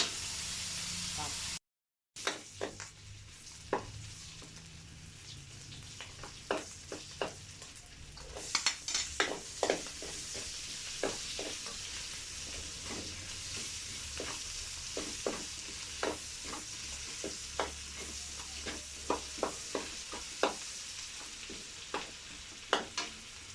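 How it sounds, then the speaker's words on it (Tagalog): Onion and garlic sauté in a pan with a steady sizzle. Frequent scrapes and clicks from stirring repeat throughout, close and moderately loud. "Saka natin isunod ang sibuyas sa bawang."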